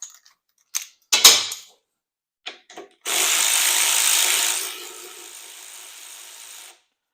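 A half-inch deep socket turns on the rear axle of a Harley Shovelhead chopper during teardown, giving a few short metallic clicks and clanks, then a loud steady ratcheting whir that drops to a quieter sustained run before stopping, with no talk.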